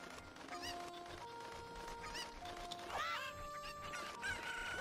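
Video game chickens from Zelda: Ocarina of Time cluck and crow in quick bursts over a steady background of game music tones, moderately loud and continuous.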